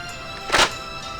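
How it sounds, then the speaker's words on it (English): A shotgun being loaded in the DayZ survival game: a single short metallic thunk around the middle, moderately loud against a quiet hiss. "Load a shotgun."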